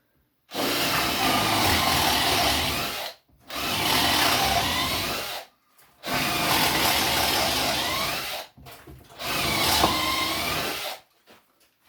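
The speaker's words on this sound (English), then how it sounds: "And I got that one drilled." A power drill bores holes through wood for a shaving horse, heard as four loud, close bursts of whirring separated by short pauses, with no talking.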